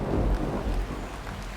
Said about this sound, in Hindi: घनघोर बारिश